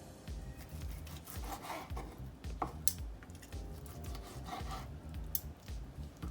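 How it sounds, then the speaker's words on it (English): Knife slicing into a cooked steak from a steak and shrimp surf and turf dish, giving soft, close scraping and rasping strokes with a few sharper clicks of the blade against the plate, with no talk. "It's time for us to cut into our steak."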